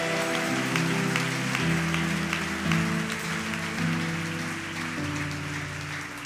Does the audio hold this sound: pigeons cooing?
no